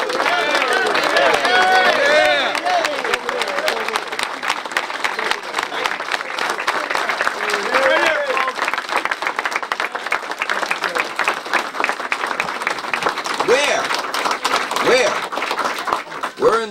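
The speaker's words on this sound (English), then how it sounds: "Let's give the owner a round of applause." Audience applause at a political endorsement event in the Town of Cicero, Illinois, a dense, loud crowd clapping sustained over many seconds with scattered voices and cheers mixed in.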